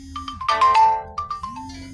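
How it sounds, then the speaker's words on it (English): Phone ringtone, a bright electronic melody of short chiming tones and a rising sweep, loud and close, playing alone without talk. "Got a phone call"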